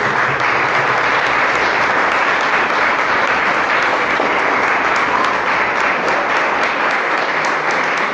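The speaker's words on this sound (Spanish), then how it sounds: "un fuerte aplauso para el Señor" A church congregation gives a long, loud round of applause for the Lord, a dense and even roar of many hands clapping without a pause from start to finish.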